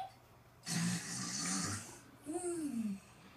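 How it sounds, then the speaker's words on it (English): Two loud snores, each a rough inhaled rumble, close by, separated by a brief pause, with a faint hum in the background. "Do you hear someone snoring?"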